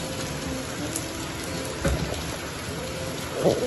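Steady crackling hiss of hot oil sizzling in a clay pot, continuous throughout with a couple of brief louder pops near the middle and end.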